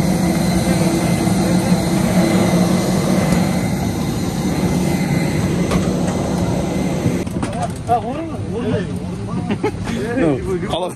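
Aircraft cabin during passenger boarding, with a steady low engine and ventilation drone filling the space and people talking over it throughout.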